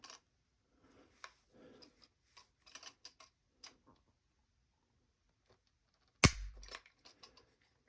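A Winchester Model 1894 lever-action rifle is handled in a quiet room: small mechanical clicks and ticks, then one sharp, close metallic snap of the trigger releasing, followed by a few faint clicks.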